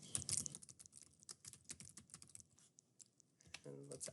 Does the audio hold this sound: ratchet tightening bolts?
no